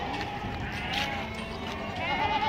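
Castrated goats bleat amid the busy din of the Deonar livestock market in Mumbai, their wavering calls faint and mixed into a dense crowd murmur and background chatter.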